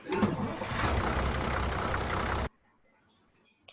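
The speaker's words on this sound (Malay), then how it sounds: "Kita boleh masukkan bunyi lori tu." Heavy truck engine rumbling loud and steady for about two and a half seconds, then cutting off abruptly into near silence.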